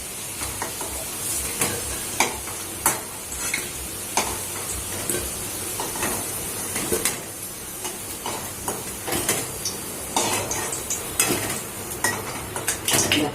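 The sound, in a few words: fried potatoes being lifted out of splattering hot oil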